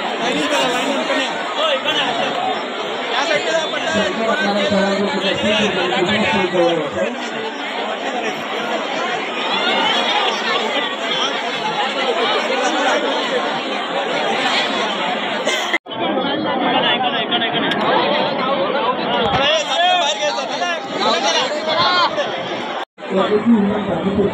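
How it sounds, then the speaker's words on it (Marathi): A large crowd chatters continuously at the Ugvai Devi gondhal festival at a village temple, a dense, loud wash of many overlapping voices with occasional laughter and two brief dropouts. "गर्दी बघू शकता भरपूर आहे"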